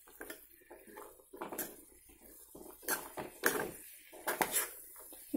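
A spoon stirs chana chaat with lemon juice in a bowl, giving irregular scraping clinks and taps of metal on the dish, sharper knocks clustered toward the end, with no voices.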